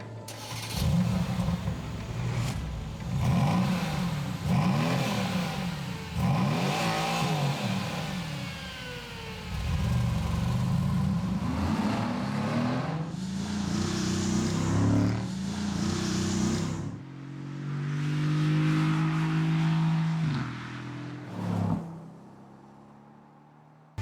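V8 car engine revving hard in a series of loud bursts, rising and falling sharply, then settling into a deep, burbling idle before cutting off near the end; close and dominant, no talk.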